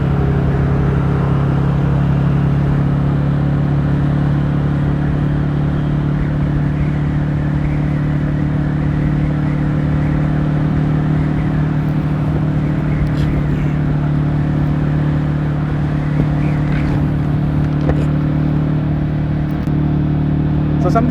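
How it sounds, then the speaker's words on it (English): A Honda Winner X 150 motorcycle cruises in fourth gear, its engine a steady, loud, continuous drone with wind rush holding even throughout, no talking heard. "something I really like about this bike is it feels really good just cruising like in a higher gear"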